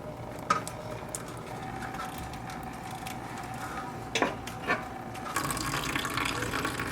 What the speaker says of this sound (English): So you guys could just go ahead and pull that switch there and then drain it onto a clean bucket